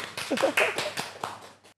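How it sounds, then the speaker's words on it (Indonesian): A few sharp hand claps in a podcast studio ring out close and quick, spaced irregularly, with a faint voice mixed in. "gue kasih tepuk tangan dulu"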